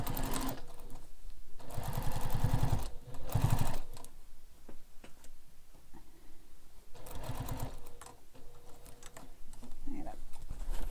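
Close sewing machine top stitching across a seam under a bag connector on a carryall bag, with two loud runs of rapid stitching separated by a quieter stretch of faint handling.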